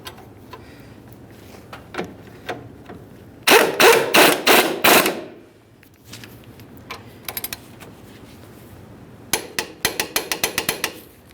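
Wrench or ratchet work on a rear shock mounting nut of a 1994-2001 Dodge Ram 1500, heard as two close bursts of rapid clicking ratchet strokes with scattered metallic taps between them.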